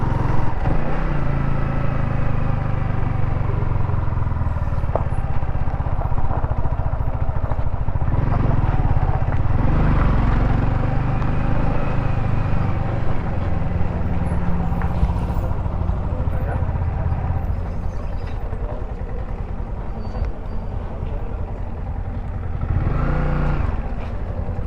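Several Royal Enfield motorcycles ride along a road, their engines making a steady, loud low rumble throughout, with voices talking over the top.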